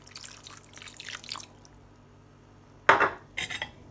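Cornflour slurry is poured and stirred into chicken Manchurian in a pan, with soft liquid stirring, then a sharp metallic clink of a spoon on the pot followed by a few lighter taps.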